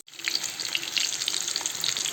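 Cauliflower frying in a pan gives off a steady, close crackling sizzle with fine popping spatters throughout, and no one speaks.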